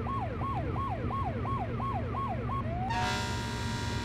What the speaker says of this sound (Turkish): Ben sireni kapatayım da kafanızı ütülemesin.